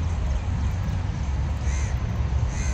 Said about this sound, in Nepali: ऊ मेट्रो स्टेसन कौवाहरू कराइरहेका छन्